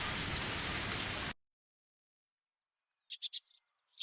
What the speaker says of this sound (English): And also, it's raining.